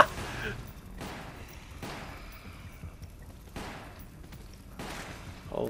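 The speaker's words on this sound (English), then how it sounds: "Oh my god, everything is just exploding right now." Mine explosions in Resident Evil: The Umbrella Chronicles, several heavy blasts going off in quick succession at roughly one-second intervals, moderately loud game audio with a faint voice underneath.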